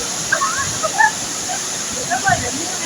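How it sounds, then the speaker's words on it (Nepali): A large waterfall at Bar Changay Falls in Sikkim pours in a constant loud roar, with faint brief voices or bird-like chirps now and then above the water. "यस्तो ठुलो झरना छ, माथि नजिकमा जानु सकिँदैन"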